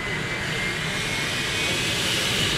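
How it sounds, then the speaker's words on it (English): An L-39 Albatros jet, modified for air racing, runs its engine after a battery start: a loud, steady roar with a high, sustained whine held throughout, close and unbroken, with no talking. "We have a battery start and the computer starts the engine for us"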